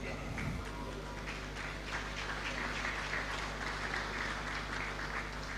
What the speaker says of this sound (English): You just gave him a resounding round of applause